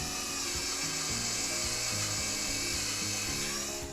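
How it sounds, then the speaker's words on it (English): A Craftsman V20 cordless 1/2-inch drill/driver drives a screw into a wooden birdhouse, a close, steady high motor whine with shifting pitch as the bit bites and the load changes. "So I'm going to go ahead and start screwing it in."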